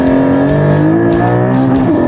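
A Porsche Cayman GT4 launches hard under launch control, its engine loud and close, climbing steadily through the revs in one continuous pull.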